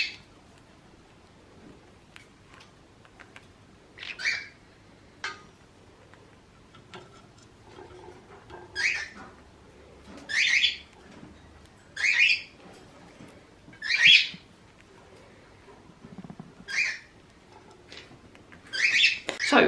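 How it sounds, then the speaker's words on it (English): Pet parrots squawk in short, shrill bursts from the background, about a dozen harsh calls spaced a second or two apart over a quiet room. "the birds are yelling in the background, being naughty because they can see loads of birds outside"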